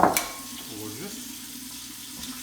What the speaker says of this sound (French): Couscous, on a besoin d'eau chaude du robinet.